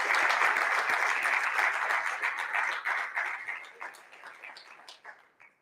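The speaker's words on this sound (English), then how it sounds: "she deserves a round of applause" Audience applause greets a Baroness invited onstage at a live event. Dense, even clapping starts full and gradually thins and fades over about five seconds.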